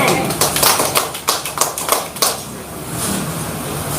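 Applause from a church congregation during a healing service sermon, a burst of sharp overlapping claps that rises, peaks briefly and fades into quieter room noise.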